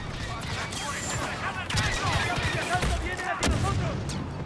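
Rapid blaster fire crackles through a Star Wars Battlefront 2 campaign battle, dense and continuous with sharper bursts near the middle and end, while voices talk over the fighting.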